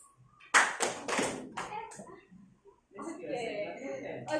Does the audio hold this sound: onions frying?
no